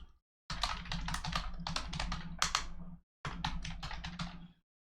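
Quick typing on a computer keyboard, two close bursts of crisp clicking keystrokes with a short gap between them, and quiet before and after.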